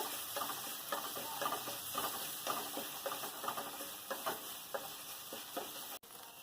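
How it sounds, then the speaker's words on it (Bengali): Crab pieces with a little salt sizzle and crackle in a hot pan, with repeated scraping stirs at an uneven rhythm, fairly quiet and close. "এগুলোকে একটু ভেজে নেব।"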